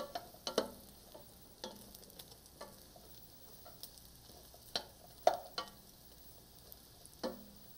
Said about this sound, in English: we're keeping that bread moving in the pan so that we don't get too dark with the browning